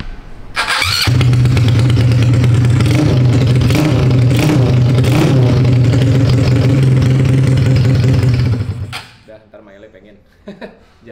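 A Honda Supra motorcycle fires up on its electric starter and settles into a loud, close, steady idle for several seconds before the engine cuts off. A voice talks over it.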